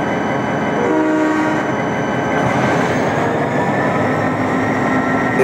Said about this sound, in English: a diesel from the other railway arrived with some passenger cars to take the passengers away